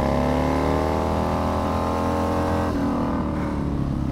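A racing bagger motorcycle at full throttle on the Alès track, its engine holding a loud continuous roar with rising pitch through the gears and a shift about three quarters of the way through.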